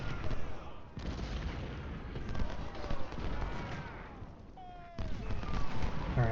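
Gunfire from 6-shot revolvers in Ultimate General Civil War: dense, continuous crackling volleys over a battle din, loud and sustained throughout with brief pauses.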